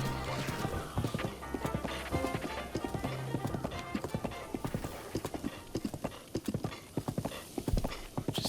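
Horse hooves galloping in Zelda: Breath of the Wild, a fast, steady clip-clop rhythm that runs close and loud throughout, with occasional whinnies over the game's background music.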